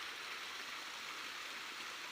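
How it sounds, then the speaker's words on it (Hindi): Spring water flows steadily down from above near a village in Haripur, a continuous, even rushing wash with no pauses or voices. "ये उधर ऊपर से पानी आ रहा है"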